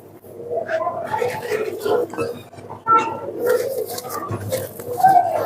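Low, throaty coos of a golden pigeon repeat in soft rolling bursts, close by, with someone talking over them much of the time.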